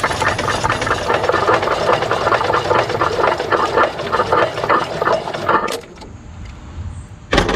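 The engine of an EZGO Workhorse utility golf cart cranks on its battery starter with carb cleaner sprayed into the intake, a loud rapid churning that runs for several seconds and then stops abruptly, leaving only quiet.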